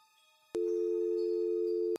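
A steady telephone tone sounds when a call cuts out, a single loud continuous beep of about a second and a half that stops abruptly, with faint line hiss before it.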